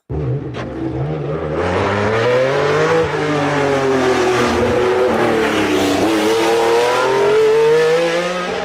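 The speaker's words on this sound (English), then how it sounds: "Now listen to this. This is a Ferrari 512." A Ferrari 512 engine revs hard on a regular road, its loud, close roar climbing and falling in pitch through repeated accelerations for several seconds with no talking.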